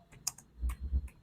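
Typing on a computer keyboard while writing Python code, a short quiet run of soft clicking keystrokes, close and alone without speech.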